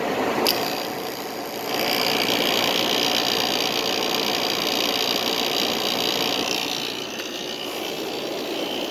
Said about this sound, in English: So let's fire the compressor up.